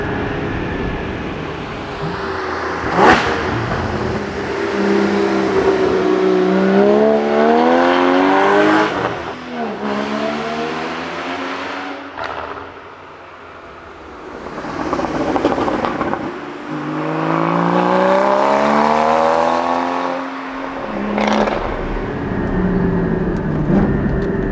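Porsche 981 Cayman GT4 driven hard on a Black Forest road, its engine pulling through repeated rising revs with shifts between them, a short lift-off lull in the middle, and road and wind noise throughout.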